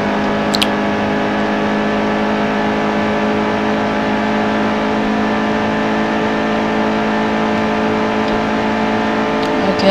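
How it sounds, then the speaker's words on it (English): A NASCAR race car engine in NASCAR Heat 2 runs at full throttle, a loud, steady, high droning roar held without break from start to finish. "Full throttle."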